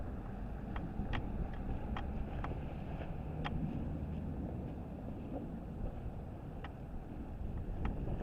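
Low rumbling wind noise rolls steadily across the microphone outdoors at a camp in Las Vegas, with faint scattered clicks and taps in the background.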